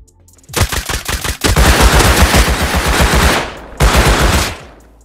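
Rapid bursts of nail gun fire in Rust Console Edition near the airfield locked crate, loud and close, a quick stuttering volley followed by a long sustained stream of shots, a brief pause, then another burst.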